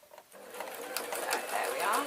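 An old-fashioned foot-pedal sewing machine runs steadily while stitching kilt cloth, its rapid mechanical whirr starting after a short pause and holding fairly close and even to the end.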